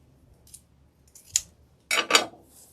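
Sharp scissors snipping through ribbon for a Christmas wreath elf tree topper, a few close, crisp cuts, the last two louder and heavier, in a quiet room.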